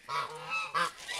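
A parreco, a duck crossbreed, gives two quick nasal honking calls, close and clear, with a brief pause between them.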